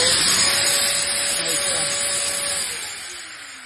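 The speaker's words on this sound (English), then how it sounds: "Motor successfully tested" Festool vacuum motor running on direct wall power, clamped in a vise, gives a loud steady whine and rushing airflow hiss throughout, easing slightly near the end.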